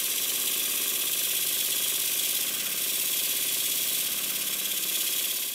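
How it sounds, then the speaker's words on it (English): A Stuart model steam engine running on compressed air chugs in a fast, steady rhythm of rapid exhaust beats and mechanical clatter, close and loud throughout with no talking. "I'll try the engine on compressed air again and check that both of the drain cocks are fully closed"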